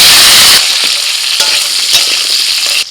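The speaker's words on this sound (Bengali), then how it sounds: "এবার দিয়ে দিচ্ছি আলু।" Potatoes hit hot oil in a kadai already seasoned with bay leaf, dried red chilli and five-spice, giving a loud burst of sizzling that settles into steady frying with scattered crackles and stirring clinks.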